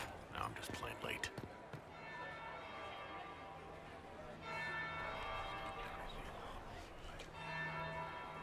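A bell tolls in a fantasy video game, with sustained low ringing tones carrying across several seconds beneath steady ambient game noise and scattered sharper sounds.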